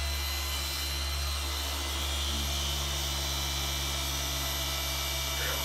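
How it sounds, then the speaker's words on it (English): A car polisher with a 15 mm throw, set between its third and fourth speed, works soft thin Subaru clear coat paint. It gives a loud, continuous, even whir with a steady electric hum underneath and no pauses. "The polisher has a 15 millimeter throw, and I have that between the third and the fourth speed setting."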